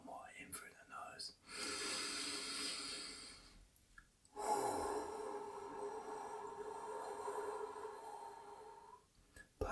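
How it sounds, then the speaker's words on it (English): Slow, deep breaths drawn in through the nose, close and soft, two long inhales separated by short pauses, with breathy hiss and no talking. "One more, in through the nose."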